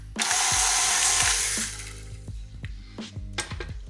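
Electric mixer beating cream cheese, sugar and cornstarch in a bowl, a loud whirring motor for over a second, then slowing with repeated clinks and knocks of beaters against the bowl.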